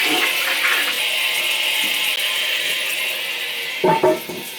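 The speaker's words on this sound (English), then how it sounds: "Flush the antifreeze out." A toilet in a winterized summer home flushes antifreeze out with a loud, close rushing swirl of water that ends in a few gurgling, clunking sounds as the bowl drains.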